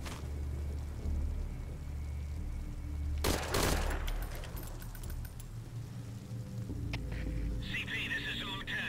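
A single sharp burst of gunfire cracks in the video game Metal Gear Solid V: Ground Zeroes over a low engine-like rumble, followed by fainter rattling and a voice near the end.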